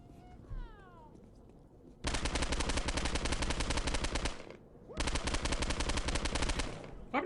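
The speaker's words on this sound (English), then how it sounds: "I haven't actually talked about this machine gun that much" A machine gun in Postal 2 fires two long sustained bursts, loud and close, separated by a short gap, after a brief higher-pitched game sound at the start.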